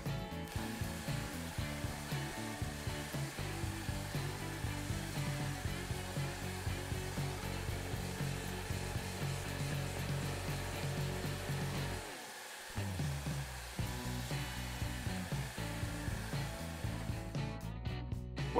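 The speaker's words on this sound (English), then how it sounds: "I'm going to do a bit of shear scraping to get rid of that." Shear scraping on a turned wooden vessel on the lathe: a steady, continuous whirring scrape holding at an even level, with a short dip midway before the scraping resumes, no talk.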